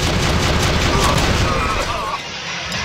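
MG Lodon machine gun in the video game Enclave Reforged fires in a dense rattling burst of rapid booming shots, loud and continuous, easing slightly toward the end.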